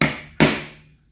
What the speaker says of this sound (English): to hit the nail with the hammer because you may miss